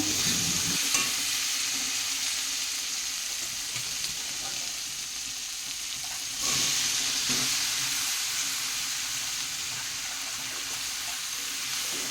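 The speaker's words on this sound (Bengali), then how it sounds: "এই যে আমাদের জন্য পেঁয়াজ রসুন দিয়ে আবার সয়াবিনটা রান্না করছি" Soybean curry cooks with onion and garlic in a pan, a steady wash of frying hiss with occasional stirring scrapes, swelling louder partway through and holding at a constant close level.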